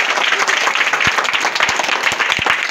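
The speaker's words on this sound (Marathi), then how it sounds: "सर्वांचं टाळ्या वाजून स्वागत करूया" Audience applause welcoming a student at a school hobby event, loud and steady with dense clapping throughout, a few sharper individual claps standing out.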